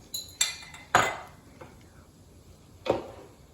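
Utensil mixing homemade carbonara sauce through a pot of cooked pasta, sounding as a few sharp metallic clinks and scrapes against the pot spaced irregularly, close and fairly loud, with quiet gaps between.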